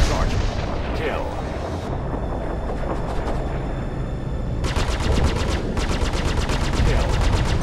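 Rapid bursts of gunfire strike a fighter ship's shields during space combat in a video game, with dense repeated impacts that thicken in the second half, loud and continuous, with talk over the top.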